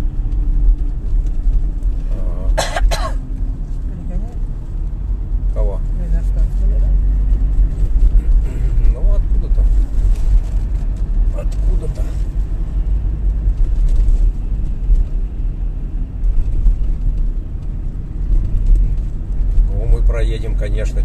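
A car drives steadily through a frosty town, with a low continuous engine and road rumble throughout and a few faint clicks and rattles inside the cabin, while people talk over it.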